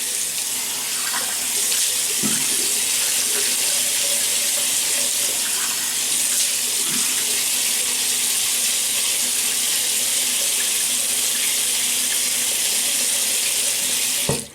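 Tap water runs steadily into a sink for wetting the face before a shave, a continuous close splashing hiss with no pauses from start to finish.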